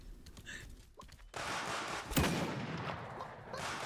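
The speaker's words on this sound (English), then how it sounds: "you're shooting at me" Gunfire in the battle royale game Realm Royale, a few muffled shots and a sharp close blast amid a noisy, rumbling wash of combat sound.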